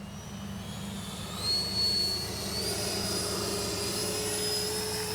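A Freewing F-22 radio-controlled jet flies past with a steady, loud electric ducted-fan whine, pitch rising and shifting as it climbs into a high-alpha attitude, continuous throughout with no talking.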